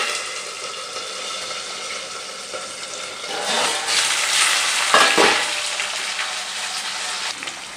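Onions hit a pan of hot oil with curry leaves, the steady frying sizzle swelling into a louder burst midway as they go in and are stirred, then settling back, close and without speech.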